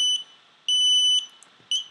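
Diatone F3 flight controller beeper on a drone sounding in shrill, piercing beeps, two long tones and a shorter one at the end, loud and close with brief gaps between them.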